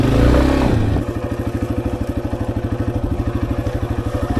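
A Yamaha XT250 dirt bike creeps down a steep offroad mountain slope, its single-cylinder engine chugging close in a fast, even, low pulse after a brief louder rumble at the start.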